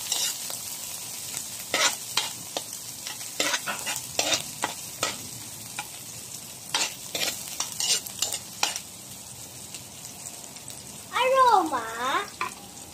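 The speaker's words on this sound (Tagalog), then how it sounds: "Sunod natin ilagay itong sibuyas. I-mekos-mekos para lumabas ang aroma." Onions sauté in a pan with a soft background sizzle, broken by repeated scraping strokes of a spoon stirring them. A short squeaky scrape comes near the end, and no one talks.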